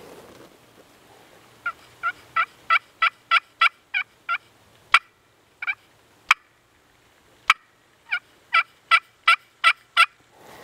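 A wild turkey gobbles repeatedly in spring: a run of loud rapid gobbles, then sharp isolated cracks, then another burst of gobbling, clear and fairly close against a quiet background.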